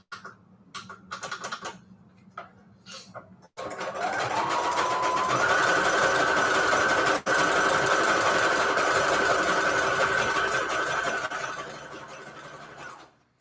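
A sewing machine runs a zigzag stitch through paper scraps for mini pages, its steady motor whir and rapid needle clatter continuing for about ten seconds after a few quieter taps and handling sounds.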